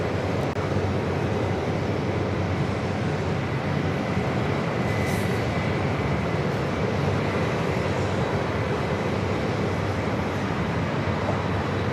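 An Atlas Air cargo plane arriving on runway 4 left at JFK, heard as a steady broadband jet roar at a distance that holds throughout.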